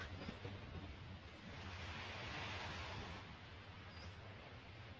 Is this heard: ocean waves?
yes